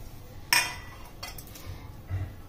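Chopped carrot and tomatoes tipped into a bowl for a sprouts salad: a sharp clink of utensil against the bowl, then a few softer taps and light knocks, close and quiet.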